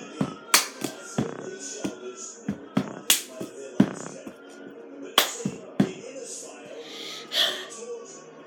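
A cup song rhythm is played with cups and hands, mixing sharp slaps, knocks and taps into a steady repeating pattern. The hits are close and crisp, with faint breaths and vocal sounds between them.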